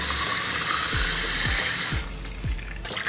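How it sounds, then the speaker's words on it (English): Tap water runs steadily into the small reservoir cup of a portable cordless water flosser, a close, loud hiss with a rising gurgle as the cup fills. "What you have to do is to fill up some water in this cup"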